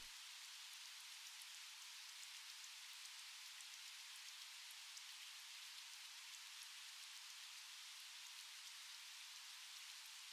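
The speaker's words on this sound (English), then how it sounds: "It sounds like it's raining because I have an effect on." Steady, faint rain hiss from a weather-plugin sound effect used in electronic dance music production: even, dense patter without pauses or voices, running the whole time.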